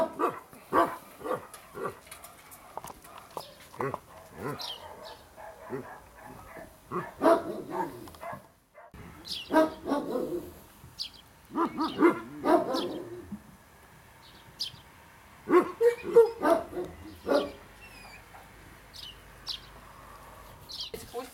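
Several dogs bark repeatedly in bursts, some near and loud, others farther off, with pigeons cooing faintly in the background of a rural outdoor setting in Ryazan.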